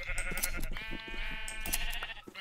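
Sheep bleat in the Minecraft video game, with a couple of short, wavering bleats over light game sounds and clicks.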